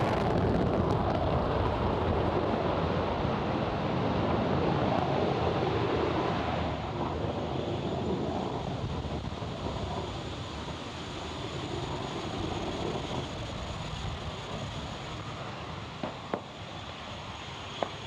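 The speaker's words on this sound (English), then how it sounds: "Falcon 9 has successfully lifted off from Space Launch Complex 4E at Vandenberg Space Force Base in California" Falcon 9 rocket lifting off from Space Launch Complex 4E at Vandenberg Space Force Base, California: a sustained, loud broadband roar and rumble that fills the whole clip, easing slightly toward the end with a few sharp crackles, with no talk.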